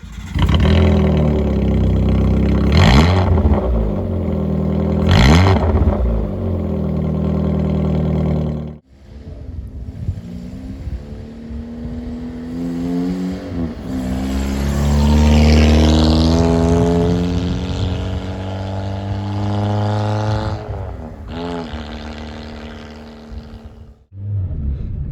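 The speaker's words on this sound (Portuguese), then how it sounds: "Uma coisa que eu achei interessante desse carro é a sensibilidade do acelerador." A Subaru Vivio kei car's small engine revs while driving, rising and falling in pitch through several throttle blips, then settling into a sustained climbing run, loud and close with no talk.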